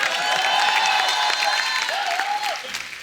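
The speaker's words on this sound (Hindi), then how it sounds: "कृष्णा के लिए जोरदार ताली हो जाए।" Studio audience at a comedy talk show with Bhojpuri film stars bursts into loud, sustained applause and cheering, a dense wash of clapping from a large crowd that carries on without a break.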